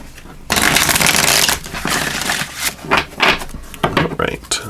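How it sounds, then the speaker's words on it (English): Gateway Oracle cards being shuffled by hand, two quick riffle-like bursts of close, crisp papery rustling and flicking, loud and alone without talk. "We'll give these 2 shuffles as well."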